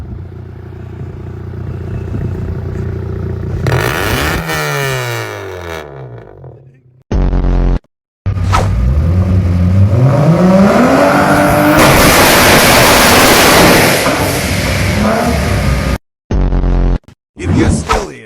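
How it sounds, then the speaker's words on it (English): Loud car with an enormous funnel-like exhaust revs hard in repeated surges, engine pitch sweeping up and down between bursts, with brief cuts and clattering, tire-squeal-like noise close to the listener. "This car rocks an exhaust so huge and visible it literally looks like a metal funnel."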